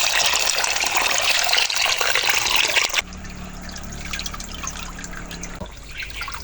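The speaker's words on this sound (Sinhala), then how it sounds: "ඉතින් මේ ගංගුරු මස් ටික හොදට වතුර දාලා" Small chopped pork pieces are washed in water for a Sri Lankan pork curry: a loud gush of running water for about three seconds, then quieter trickling, sloshing and splashing.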